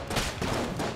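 Enemy gunfire in Enter the Gungeon, a rapid volley of punchy shots in three or four quick bursts, fairly close and loud with no voices over it.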